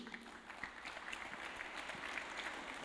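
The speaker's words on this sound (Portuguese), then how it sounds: "Palmas para Jesus?" A church congregation claps steadily during a Sunday service, a soft, continuous patter of applause heard from a distance.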